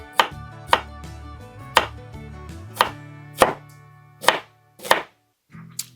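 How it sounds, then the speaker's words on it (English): A knife slices a vegetable into thin rounds on a cutting board, giving about eight crisp, evenly spaced chops, close and clear, with no talk. "we're just going to cut those in nice little rounds, fairly thin"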